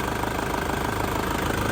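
A 2003 Isuzu Panther LV engine idles under an open hood, a steady close rumble with a fast, even knock-like pulse, loud and unbroken, with no talking.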